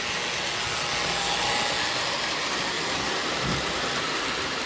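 Lionel postwar Texas Special model train running along its track with the transformer cranked high, a steady, even mechanical rumble and whir holding throughout with no voices.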